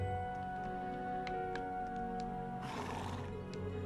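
A horse neighs once in the Trails of Cold Steel 4 video game, a brief whinny heard against a steady bed of background game music.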